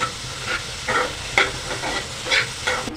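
Onions frying in a pan while the gas is turned up, a steady close sizzle with a few soft scraping stirs spaced through it and no voices.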